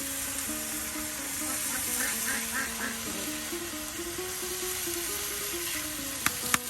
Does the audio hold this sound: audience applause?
no